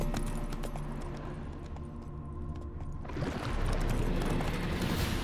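Horse hooves clip-clopping in The Witcher 3: Wild Hunt, picking up into a faster gallop partway through, close and steady under a low ambient rumble.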